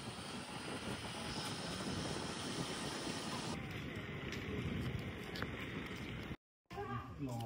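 A small propeller airplane carrying only a few passengers over French Polynesia gives a steady, loud, broadband engine drone with wind rush that runs almost continuously, cut by a brief dropout near the end.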